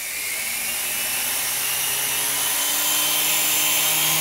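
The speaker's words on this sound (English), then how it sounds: "Here's an example of a slow and steady takeoff that this helicopter is capable of." A Protocol Tigerjet toy helicopter lifts off in a slow, steady takeoff, its small motor and rotor giving a continuous high whirring whine that holds close and loud throughout, with no voices.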